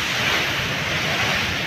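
Ocean waves crash loudly and continuously against the shore at Bayawan Boulevard, a dense roaring wash with wind buffeting the microphone.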